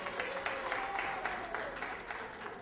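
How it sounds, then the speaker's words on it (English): Audience applause at an African cultural parade event, a steady spread of clapping from a crowd, moderately loud and continuous throughout. "Give Ghanaians a round of applause."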